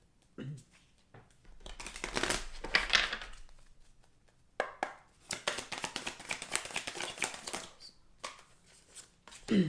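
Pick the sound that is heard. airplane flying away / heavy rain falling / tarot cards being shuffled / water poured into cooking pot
tarot cards being shuffled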